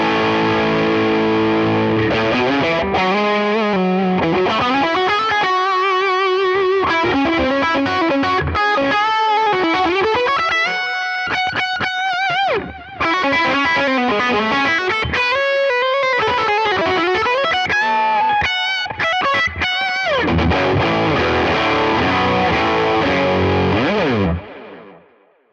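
Electric guitar played through a Tone King Imperial MKII amp with dual delay engaged, loud distorted chords and sustained melodic lines with repeating echoes trailing each note, continuous for the whole stretch before fading out at the end.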